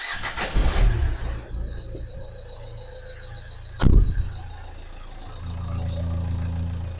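A Nissan NV200 dCi diesel engine cranks and starts, gives a sharp squeal, then settles into a steady low idle. The sounds are close, with no talking.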